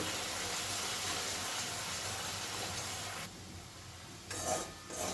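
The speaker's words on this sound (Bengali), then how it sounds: "এবারে আমি মশলাটা কষিয়ে নেব" Spice masala with chilli powder and a little sugar is stirred and fried for a tangra fish curry, making a dense, steady sizzle that drops away briefly near the end before a short scrape returns.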